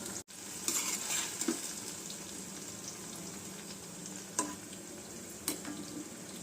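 Fried amla gooseberries are scooped from hot oil into a bowl, with a steady low sizzle underneath and a few sharp clinks of a metal spoon against the pan and bowl.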